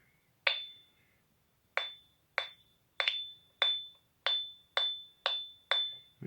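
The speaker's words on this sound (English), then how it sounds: "Metallic hammering." An oscillator circuit from a 300-in-1 electronic project kit gives a metallic hammering sound, nine sharp ringing bell-like strikes at uneven intervals, each decaying quickly to silence, clear and alone.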